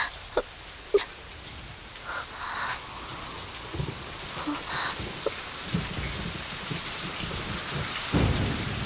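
Steady rain pours down during a Telugu film scene, a dense hiss of drops on surfaces with a few sharp cracks and low thunder rumbles swelling through it, no voices over it.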